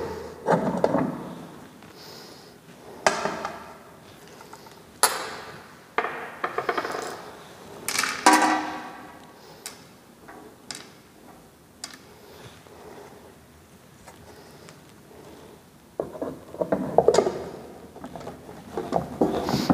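Twenty tablets loaded into the drum of a friability tester in a pharmacy lab, then the lid screwed shut: irregular close knocks, plastic clatter and rubbing handling noises spread across the clip.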